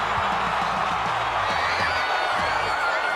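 A 14,000-strong rugby crowd at the Free State Stadium cheering after a try, a dense, sustained roar of distant voices filling the background while a commentator speaks over it.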